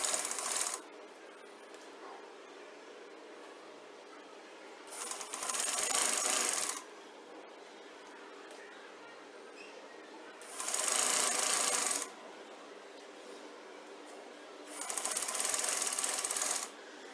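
A sewing machine stitches an invisible zip onto a shirt, running in four loud, even bursts of about a second and a half each, separated by quiet pauses.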